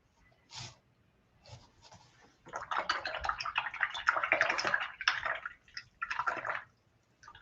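Wet swishing and sloshing as an acrylic paintbrush is rinsed in a water pot, a few soft splashes at first, then a few seconds of steady, close, moderately loud agitation.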